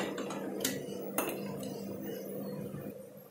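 Roasted peanuts lifted out of a pan while making roasted poha namkeen, a few sharp metallic clinks and scrapes of a spoon against the pan early on over a quiet background, no voices.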